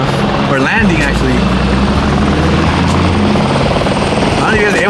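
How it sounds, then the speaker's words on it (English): Helicopter turbine engine during takeoff or landing, a loud steady whine with rotor thrum heard nearby, while people talk over it. "The helicopter taking off. Or landing, actually."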